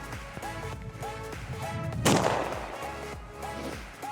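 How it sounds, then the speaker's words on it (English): Sharp, loud bangs from a small, fast-burning firecracker burst out against a droning background, one big crack standing out near the middle. "Oh, the fast burning small firecracker."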